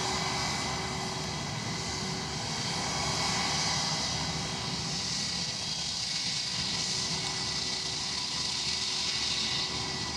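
Ryanair passenger jet at Edinburgh Airport, departing on a flight to Alicante, producing a steady, fairly loud engine roar with a faint whine that holds for the whole stretch without voices.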